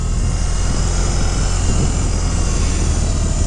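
BMW R18 1800cc cruiser motorcycle engine running, a loud, steady, dense rumble with heavy low-end throb and wind-like noise, continuous and close with no talk.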